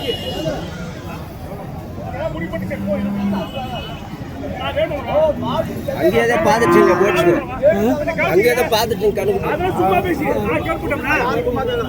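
Cattle low and moo at a rural livestock market in Krishnagiri district, with several deep calls rising over a crowd of people chatting and a busy open-air hubbub.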